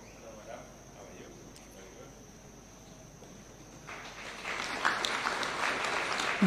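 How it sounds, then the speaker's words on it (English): Audience applause for the National Intelligence Service award at Taxpayers Day celebrations at State House, rising from a quiet insect-like hiss into a swell of distant clapping from a large crowd. "A round of applause for the NIS."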